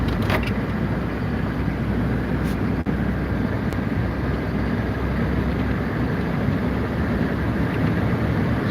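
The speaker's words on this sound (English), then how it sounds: "A lot of traffic." Continuous road traffic rumbles past in a dense, steady wash of tire and engine noise, fairly loud and unbroken throughout.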